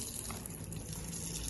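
Water splashed onto a car windshield during a rain-repellent product test, a steady broadband wash of liquid spilling and running down glass, constant and moderately close with no talk.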